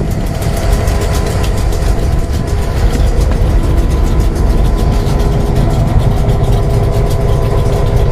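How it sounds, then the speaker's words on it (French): A 2000 HP diesel locomotive engine runs steadily inside the cab of a train, a loud, continuous low rumble and throbbing vibration that fills the space with no pauses and no talking. "toutes les vibrations du moteur de 2000 HP paraissent"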